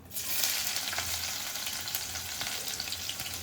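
Steady close sizzling of onions, chillies and garlic frying in hot oil, a continuous crackling hiss with no talking.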